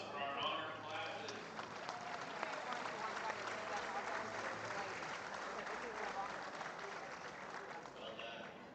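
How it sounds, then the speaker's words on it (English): Sustained applause from a crowd at a school reunion, steady and moderately loud for the full stretch, easing slightly toward the end. "How about a big round of applause for our honor classes?"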